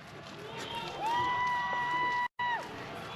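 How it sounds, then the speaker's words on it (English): A crowd of spectators cheers on runners at a Spartan race European Championship, a broad distant roar with a few whistles rising through it, heard behind nearby activity. "You can hear the crowds in the background"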